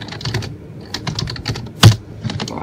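Fingers tap out irregular keystrokes on a computer keyboard, close and crisp, with one sharper, louder key strike near the end.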